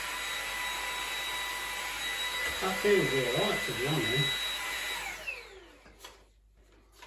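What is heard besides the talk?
LEVOIT LVDC200 cordless vacuum cleaner running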